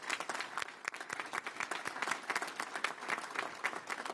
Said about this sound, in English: May we please give them a round of applause.